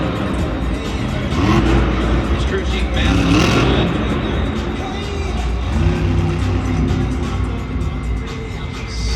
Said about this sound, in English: He's having some issues with the truck right now. He's always sputtering back and forth.